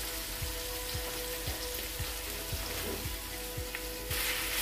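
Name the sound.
minced meat added to pan, frying and sizzling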